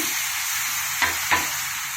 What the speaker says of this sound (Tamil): வேக வச்ச கொள்ளு போட்டுக்கலாங்க.